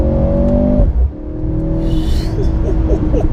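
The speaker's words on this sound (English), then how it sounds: "You've got a couple of cracks and bangs from piped in engine notes." A 2022 Mercedes C43 AMG with an electric turbo in Sport Plus, its engine droning loudly up close, then shifting pitch and rising again, with a few short popping cracks near the end.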